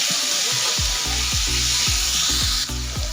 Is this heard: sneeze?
no